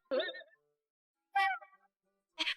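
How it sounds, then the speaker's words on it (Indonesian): A cat meows three separate times, short and fairly close, with quiet pauses between the calls and no other sound around them. "Dulu aku juga punya kucing. Mirip banget loh sama yang ini."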